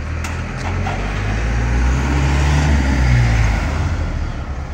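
A truck drives past on a town street in São José do Egito, Pernambuco, its low engine rumble and tyre roar building to a peak and then easing slightly, steady and close throughout, with no talk.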